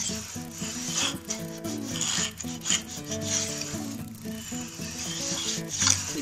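A router plane fitted with a quarter-inch cutter scrapes through wood in repeated close rasping strokes, each stroke a short gritty rub with no talk over it.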